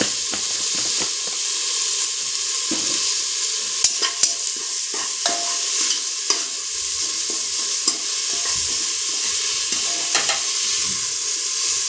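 Rice masala mixture with garam masala stirred in a hot pan, a continuous hissing sizzle broken by repeated scraping and clinking strokes of a spoon, close-up and fairly loud, with no one talking.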